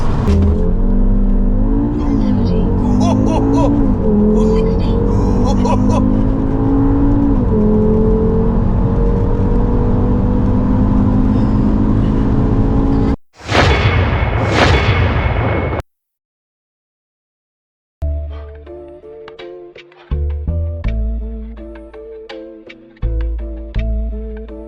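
A 460 bhp stage 2 Audi RS3 8P roars loudly under hard acceleration, the engine note climbing through the gears. Sharp breaks in the sound mark the upshifts, followed by a brief silence and a run of crackles and pops.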